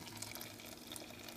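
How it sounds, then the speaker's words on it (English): Hot water left from boiling sweet potatoes pours into a pan, a steady close splashing gush that runs without a break. "So this is the sweet potato water, full of vitamins. So put it in here."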